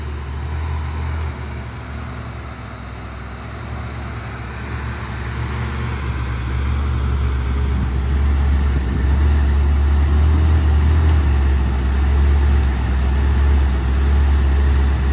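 The engine of a 1983 Buick Riviera idles steadily up close with a smooth, low rumble that swells slightly partway through, without misfires or roughness.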